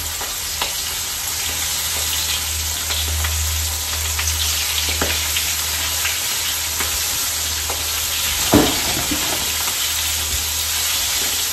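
Oysters deep frying in hot oil until golden brown, a steady loud sizzle and bubbling hiss with occasional crackles and pops, heard alone without talk.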